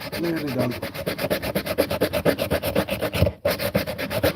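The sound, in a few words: sanding wood with sandpaper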